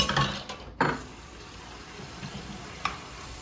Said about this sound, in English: So now I am gonna wash my hands because now my hands are gross.